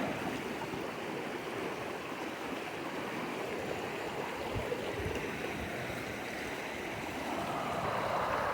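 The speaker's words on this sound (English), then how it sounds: "here's the rapids" River rapids rush in a steady, broadband roar of churning water, continuous and close by, with no voices over the flow.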